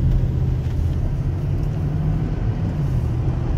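A 1988 Mercedes-Benz car accelerating from the inside, giving a steady, loud low rumble of engine and road noise that stays even with no clear rise in pitch.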